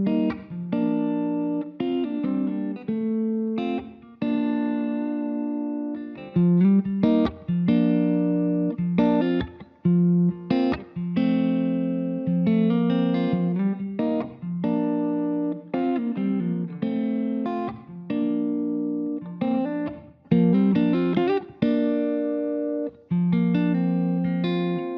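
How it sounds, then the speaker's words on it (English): Close-miked electric guitar played through a room reverb plugin, with plucked notes and chords ringing out and decaying into a reverberant tail, loud and alone with no talking. "Second example, the guitar is close to me, it has more bottom and top. The room reverb has less bottom and top, longer pre-delay"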